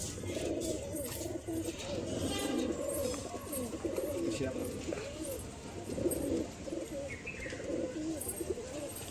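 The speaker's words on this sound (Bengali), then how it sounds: "এটা একটা ফুলশিরা মাদি পায়রা।" Several pigeons in a loft coo in low, rolling phrases that repeat throughout, close and steady, with a fulshira hen among them and faint chirps from other birds behind.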